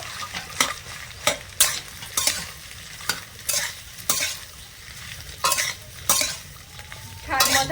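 Boiled potatoes being stirred and mixed in a pan, a spoon scraping and turning them in repeated strokes with a soft sizzle underneath, close and fairly loud, with no voices.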